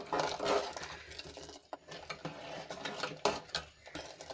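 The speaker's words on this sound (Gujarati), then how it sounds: "વઘાર દાળમાં સરસ રીતે મિક્સ કરી લેશું" A spoon scrapes and stirs through Gujarati dal in a pot as the tempering is mixed in, with steady close rubbing and clinking against the metal and a brief quieter pause midway.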